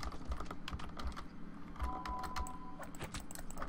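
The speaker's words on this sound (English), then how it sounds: "I do apologize if the clicking is very loud." Rapid clicking of a computer keyboard and mouse during play of the game Larva Mortus, close and sharp, in irregular bursts over a quiet background.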